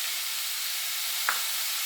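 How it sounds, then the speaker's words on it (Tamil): Onions sautéing with salt in a pan for an onion-tomato thokku give a steady, soft sizzling hiss, with one brief scrape or click near the end and no talking. "போட்டு நல்லா கொஞ்சம் நேரம் வதக்கிடலாம்"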